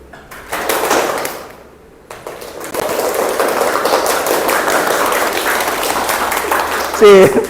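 Pupils in a classroom game clap their hands continuously in a dense, lively patter, pausing briefly before resuming, while a teacher's voice talks over the noise.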